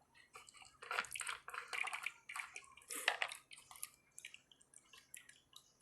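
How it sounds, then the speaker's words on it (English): Water runs from the bottle of a refrigerated water dispenser, coming in faint, uneven splashing gushes and trickles that fade toward the end, with no talk. "water is flowing"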